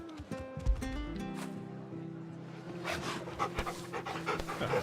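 Torgo the dog panting in Final Fantasy XVI, a steady run of quick breathy pants close up, with a low musical drone and soft game ambience underneath.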